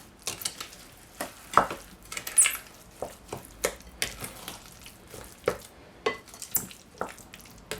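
Brown sugar being stirred into mashed sweet potato pie filling in a bowl, a series of soft scraping and clicking strokes at an uneven rhythm, close and moderately quiet, with no talking.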